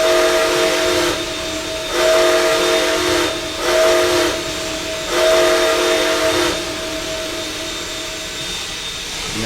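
Chime whistle of a Nickel Plate Road L1 steam locomotive blowing in several long, steady blasts with brief gaps, loud and close, backed by a constant steam hiss.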